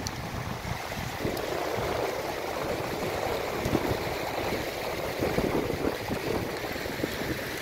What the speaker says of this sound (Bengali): হিমবাহ গলা জল এই মোরেনকে কেটে ওপর থেকে নেমে এসেছে।